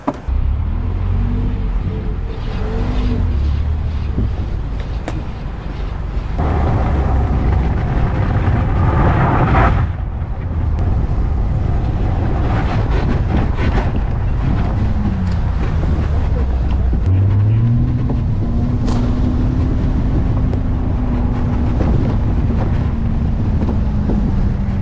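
A Lamborghini car driving along, loud steady engine and road rumble with wind buffeting the microphone, engine pitch rising and falling through gear changes, and voices talking briefly over the noise.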